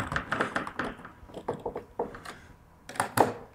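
Screws are driven into a robot's battery cover, giving close, irregular metallic clicks, taps and small ratcheting knocks in scattered short bursts.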